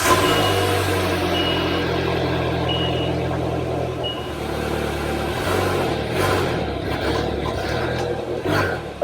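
2021 Slingshot R LE engine idling and pulling up a ramp, a loud close engine drone with a steady tonal beep early on, followed by rumbling changes in engine note and clunks as it moves.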